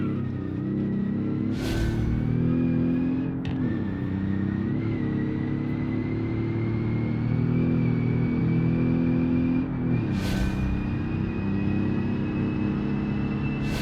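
Roadster race car engine in the game Automation, a steady loud drone held at high revs that climbs gradually, with two brief bursts of noise marking heavy braking and gear changes.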